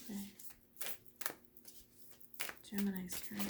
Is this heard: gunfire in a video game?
no